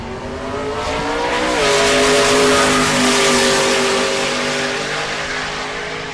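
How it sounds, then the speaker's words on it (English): A rear-wheel-drive converted Impala race car on its run, a loud, sustained engine roar that climbs in pitch and swells as the car passes close, then holds steady as it pulls away. "Rist, the rear wheel drive converted Impala."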